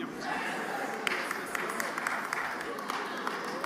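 At a separatist rally, an audience claps in scattered, irregular bursts that stay fairly faint beneath a speaker addressing the crowd over a reverberant outdoor sound system.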